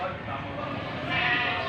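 Goats bleat on a farm, a wavering cry rising near the end, heard under steady outdoor noise and a person talking.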